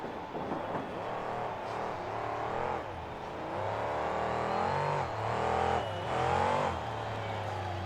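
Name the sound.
monster truck engine revving during freestyle run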